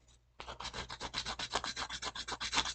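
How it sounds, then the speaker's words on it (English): Rough sandpaper scrubs quickly over a small Nendoroid figure in steady back-and-forth strokes, a close, rhythmic rasping that starts after a brief pause and continues without talk. "The rough sandpaper will strip stuff away pretty quickly"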